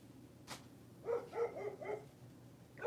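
A dog barks indoors, reacting to children next door: one faint yap, then a quick run of four moderately loud barks and a last bark at the end, somewhat distant in a quiet room.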